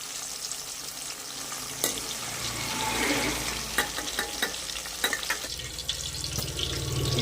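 Drumstick pieces fry in hot oil for a pickle, giving a steady sizzle and bubbling with a few sharp pops and ladle clinks, close and moderately loud, with no talking.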